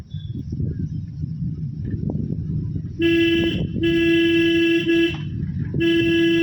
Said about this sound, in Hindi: हॉर्न दीजिए